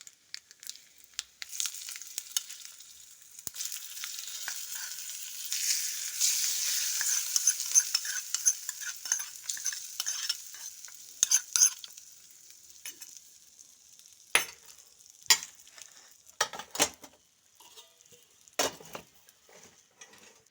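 Quiet soft scraping and light sizzle as a spoon stirs a hot spice tempering into tomato and coriander chutney, followed by a few sharp clicks and taps near the end.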